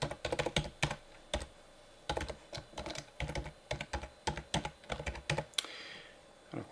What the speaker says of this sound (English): And then I'm going to type in my email address.